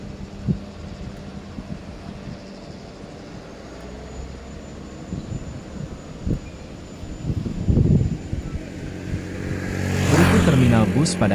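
One-way Lebaran holiday traffic of cars and motorcycles on the road through Padang Panjang: engines pass intermittently, with a louder motorcycle going by near the end, along with wind noise and some voices.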